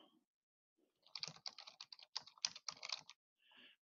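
A computer keyboard clatters in a quick burst of close, crisp keystrokes, a few scattered taps before and after, with no talking.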